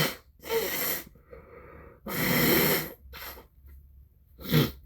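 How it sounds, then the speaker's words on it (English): Someone blows their nose in several forceful bursts, two long honking blows and shorter snorts separated by quiet breaths, close to the microphone with no talking. "And I gotta blow my nose again."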